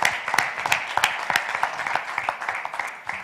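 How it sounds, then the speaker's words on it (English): An audience at an insurtech program event applauds its innovators, filling the room with dense, steady clapping from many hands at close range, with a few louder individual claps standing out. "A big round of applause again for our innovators."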